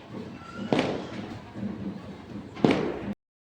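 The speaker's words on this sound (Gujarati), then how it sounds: "ફટાકડાનો અવાજ આવે છે ને" Two sharp bangs stand out against a low background rumble, firecrackers bursting at a distance during Kali Chaudas festivities, the second a little louder.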